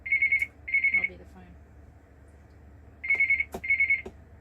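A telephone rings in clear electronic bursts: two quick rings, a pause of about two seconds, then two more, sounding fairly close against a quiet room.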